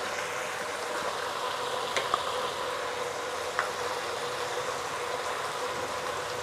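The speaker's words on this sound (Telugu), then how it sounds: "చూస్తురుగా నూనెలా ఎట్లా ఉడుకుతుందో మంచిగా" Oil for goat head curry sizzling and bubbling in a pot, a soft steady hiss with faint crackles and a couple of sharp pops, close by and with no talk over it.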